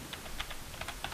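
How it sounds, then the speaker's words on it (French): Rapid, light clicks of computer keyboard keys being struck in a quick irregular burst, close but quiet over a steady background hiss. "il appuie sur toutes les touches de son clavier"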